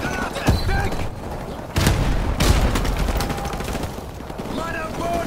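Grenade blast and heavy gunfire in the shooter Call of Duty Modern Warfare Remastered: dense, continuous rattling bursts with booming hits near 1.8 and 2.5 seconds, loud and close, with brief game voice lines mixed in.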